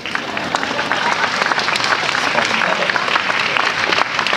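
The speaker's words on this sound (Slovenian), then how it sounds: "Spontan aplavz." Lively crowd applause at the outdoor opening of Ljubljana's green year celebration, dense and close clapping that stays strong throughout, with scattered voices mixed in.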